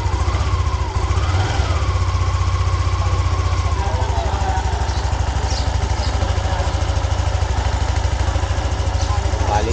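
A Yamaha NMAX scooter engine with a check engine fault runs at a steady idle, close and loud, an even low rumble throughout while someone talks over it.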